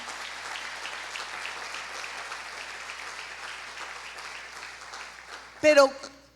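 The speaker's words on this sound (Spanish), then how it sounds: "¿Cuántos le dan un fuerte aplauso al Señor?" A church congregation at a family service applauds in a steady, moderate wash of clapping, followed near the end by a sudden loud burst of voices or a shout.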